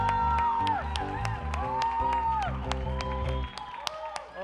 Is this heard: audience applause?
yes